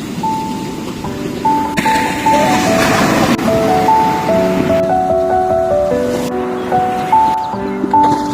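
Surf washes steadily at a seaside beach, a continuous broad rush with shifting swells, while clear tonal notes ring out over it.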